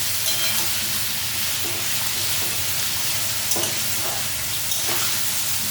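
Potato, kohlrabi and red lentil bori sizzle steadily in a pan, a continuous close hiss broken by a few stirring scrapes, with no talking.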